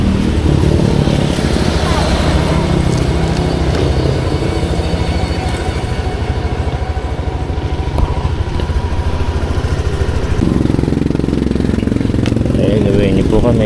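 A motorcycle engine idles and revs nearby after warming up, a continuous rough drone with some swells, and people talk over it before a ride.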